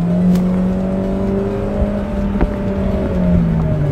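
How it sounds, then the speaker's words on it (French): A small car's naturally aspirated engine drones loudly from inside the cabin, a steady strong hum with slowly shifting pitch as it runs at speed. "il fait un boucan pas possible. Tu as l'impression que la voiture elle fonce à 200 tellement il fait du bruit."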